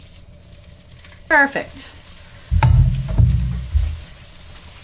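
Salmon cakes drop into hot oil in a pan and start sizzling loudly, a steady frying crackle with bursts as they settle, while a voice speaks briefly.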